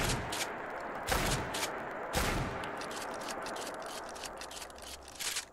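Remington 870 pump-action police shotgun in a Fallout 4 mod: two loud, close blasts about a second apart, followed by a run of quieter mechanical clicks and scrapes as shells are loaded and the pump is worked.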